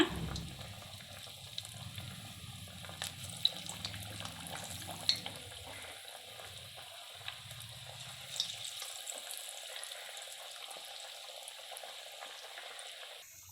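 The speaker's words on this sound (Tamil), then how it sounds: "இப்போ இதை எண்ணெயில் போட்டு பொரிச்சு எடுத்துடலாம்." Spiced lentil vadas deep-fry in oil, a continuous soft bubbling sizzle with occasional small pops and clicks, a low rumble fading partway through, fairly quiet, no talk.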